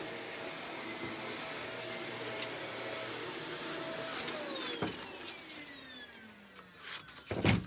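A household vacuum cleaner runs steadily with a broad, even roar and drifting motor tones, then shifts and sweeps in pitch with a few louder bumps near the end as it is moved about.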